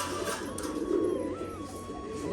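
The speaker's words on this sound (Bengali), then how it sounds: "এই নট পায়রাটা আছে।" Pigeons coo from inside a cage, a soft, continuous low murmur with a steady, close background hum and no voices.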